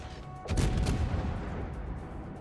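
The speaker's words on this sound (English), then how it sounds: "Oh, look, a detonation." A warship detonates in the naval game World of Warships, a single deep booming blast that bursts in suddenly and then rumbles and fades over a couple of seconds, fairly distant and muffled.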